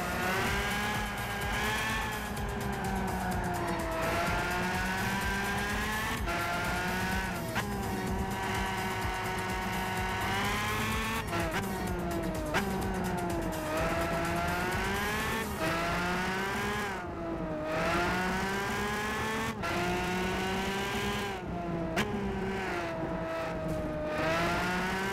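Race cars roaring through a street race in the Gran Turismo 5 video game, with loud sustained engines rising and falling in pitch as they shift and accelerate, plus occasional tire squeal, continuous and unbroken.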